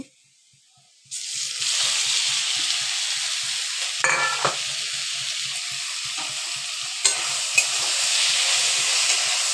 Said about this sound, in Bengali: এবার ঢেলে দিব আমি শাকটা